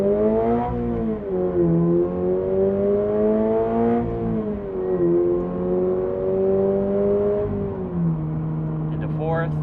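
A Toyota GR86 with an aftermarket exhaust pulls hard through the gears, loud rising engine tones climbing then dropping at each shift, three upshifts in a steady powerful run.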